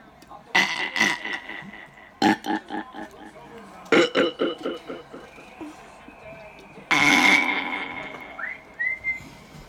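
Seven-year-old child burping repeatedly, a series of loud, drawn-out, gurgling burps close to the mic with short pauses between bursts, and some whistling tones mixed in.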